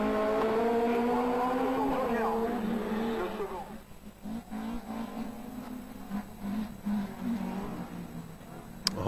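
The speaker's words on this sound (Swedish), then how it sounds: "Hör förarna jobba med gasen där för att kontrollera bilen så gott det går" Rallycross cars race at a European Rallycross Championship round in France, engines roaring and revving as drivers work the throttle, heard under loud Swedish commentary that fades partway through, leaving a busy mix of engine and crowd noise.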